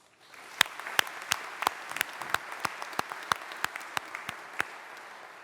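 Applause from a graduation ceremony crowd at Greenwich, steady clapping with sharp individual claps standing out, building quickly and continuing throughout.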